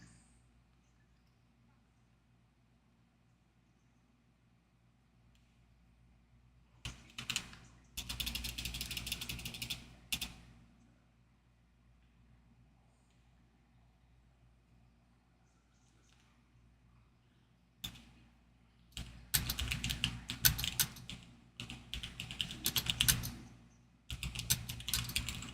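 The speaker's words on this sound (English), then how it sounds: "I'm still typing" Computer keyboard typing in irregular bursts of rapid clicky keystrokes separated by quiet pauses, fairly close and moderately loud, with no talking over it.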